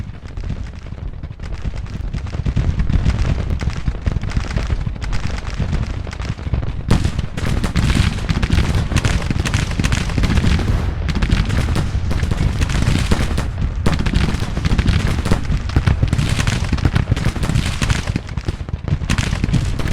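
Relentless musket volleys and artillery fire from a Grand Tactician Civil War battle, dense overlapping cracks and booms rolling without pause for the whole stretch, loud and close with no voices.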